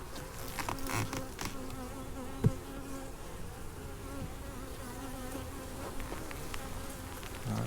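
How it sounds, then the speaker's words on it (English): Honey bees buzz in a soft, continuous swarm hum around a hive, with a faint knock partway through. "Lots of happy bees."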